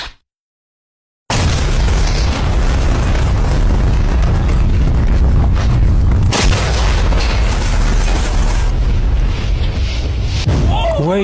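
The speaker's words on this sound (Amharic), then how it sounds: "ይሄ በጣም ከባድ ፍንዳታ ነው።" A loud explosion from a staged blast among shipping containers bursts in after a second of silence, then a long roar and rumble carries on at full loudness for several seconds.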